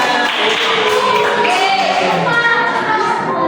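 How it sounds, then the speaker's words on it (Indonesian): Fourth-grade classroom of children applauding a student group after its presentation, a bright dense patter of many small hands that fills the room at close range, steady throughout. "Oke, tepuk tangan semuanya."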